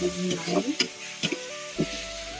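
Mushrooms frying in oil in a pan in a home kitchen, giving a steady sizzle with a few sharp stirring clatters from a utensil, heard close and alone over a constant tonal background.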